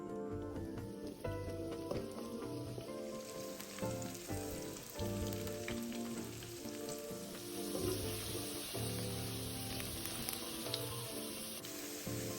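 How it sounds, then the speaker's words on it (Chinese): Potato slices pan-fried over medium-low heat in oil previously used for frying shrimp, with a steady close sizzle and crackle throughout and occasional spatter, no talking. "再将沥干后的马铃薯片放入，中低火慢慢煎香"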